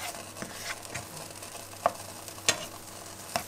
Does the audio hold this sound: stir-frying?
yes